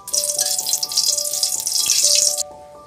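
Dry chillies frying in hot oil, a loud steady sizzle and crackle close up that cuts off abruptly near the end.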